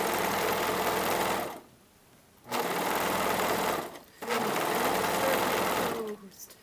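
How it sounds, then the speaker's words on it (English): A serger overlock machine hemming a blouse runs in loud, fast whirring bursts with two short pauses between runs, close up, while a person talks over it. "I need to serge this hem"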